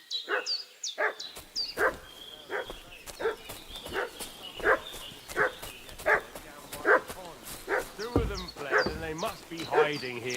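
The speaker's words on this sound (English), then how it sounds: "What's that dog making such a fuss about?" A dog in the medieval role-playing game Kingdom Come: Deliverance II barks steadily in a rhythmic series of roughly a dozen loud, evenly spaced barks over ambient game sound, with people speaking over part of it.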